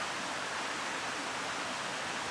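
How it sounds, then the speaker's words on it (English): Remote waterfall, Panther Creek Falls in the Cohutta area, heard as a steady, even wash of falling water with no breaks, fairly soft and distant. "Finally getting my first look at the waterfall."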